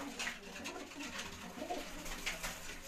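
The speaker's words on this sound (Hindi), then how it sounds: "गोल्डन कबूतर है जी" Soft coos from champion racing pigeons repeat over a steady background murmur, with a few higher chirps mixed in; the birds sound fairly close.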